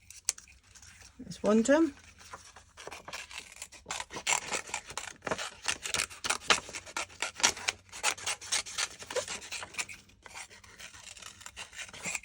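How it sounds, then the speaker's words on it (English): Scissors cut out a Christmas card in quick, repeated rasping snips of paper, close and fairly soft, with someone talking over the cutting. "So I'm just going to really quick and easy cut this out."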